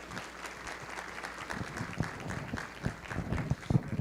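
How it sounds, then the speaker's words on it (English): An audience at a disability and mental health summit panel gives a round of applause, moderate scattered clapping that builds slightly, with a few louder individual claps near the end. "I hope you'll join in me in giving them a round of applause for coming"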